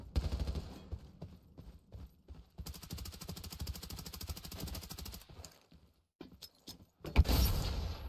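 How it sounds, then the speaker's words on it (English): Gunfire rattles in a first-person shooter game, bursts of rapid automatic shots in several clusters, fairly quiet and distant, followed by a louder sharp blast near the end. "Gunshots? That doesn't sound like a marauder."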